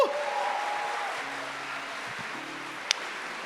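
A church congregation keeps clapping for a missionary, a moderate, even patter of applause that holds steady, with one sharp click near the end.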